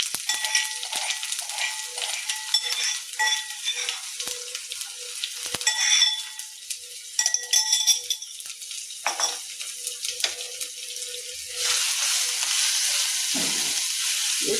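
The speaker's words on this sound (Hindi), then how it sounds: "इसको अच्छी तरह भून लेंगे।" Crushed red chilli, garlic and ginger fry in hot oil for an aloo besan sabzi, a steady close sizzle broken by occasional stirring scrapes against the pan, with no voices.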